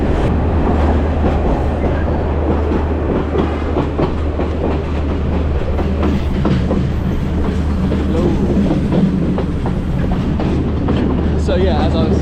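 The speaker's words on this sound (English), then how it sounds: "We're just about to go into a tunnel." The Kandy to Ella train rumbles loudly with constant clattering wheels and carriage noise as it heads into a tunnel, with voices faint beneath the din.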